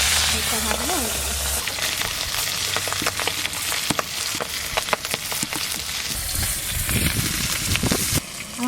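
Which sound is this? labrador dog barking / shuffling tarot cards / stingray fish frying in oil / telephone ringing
stingray fish frying in oil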